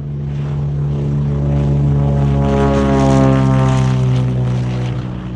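A propeller airplane at College Park Airport drones loud and steady with a strong low engine hum and a slowly shifting tone, as if passing close by, with no talking.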